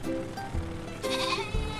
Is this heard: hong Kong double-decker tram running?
no